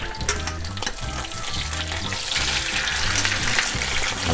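Rump steak and new potatoes fry in a pan with a dense, continuous crackling sizzle, close and fairly loud, with a few soft clicks of handling and no talk.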